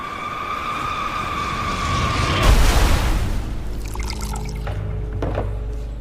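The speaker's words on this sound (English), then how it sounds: "that's the sound of the plane coming apart." Airliner breaking up during a rapid high-speed descent: steady tonal whines give way to a loud roaring burst of broadband noise midway, followed by rumbling and scattered rattling, with no speech.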